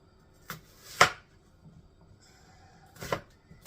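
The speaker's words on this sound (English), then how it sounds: "we are going to chop up an onion" A knife chopping an onion on a board, a few sharp, separate cuts: two close together near the start, then a pause and another, quiet and dry.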